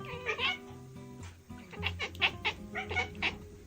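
A cat chatters in quick, stuttering 'ek-ek-ek' bursts, quiet and close, with a brief pause before a denser run of rapid clicks near the end.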